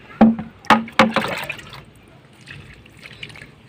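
Homemade liquid fertilizer made from kitchen waste splashes onto garden plants after rain in three quick sloshing pours, followed by soft trickling and dripping nearby.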